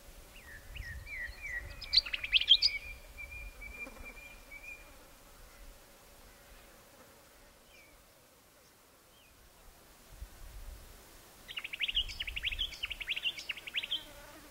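A wild scarlet-chested parrot in the South Australian outback calls in faint, high chattering bursts: one around the second mark and another toward the end, set against quiet open-air background with low rumbles.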